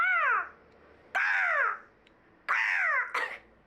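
A hadeda ibis gives three loud, harsh, descending honking calls in separate bursts, the last doubled, close and clear with no talk over them.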